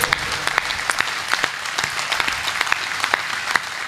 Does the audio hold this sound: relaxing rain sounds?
no